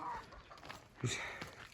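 Brief village hen clucks at close range over a faint outdoor background, with a short, louder squawk in the middle.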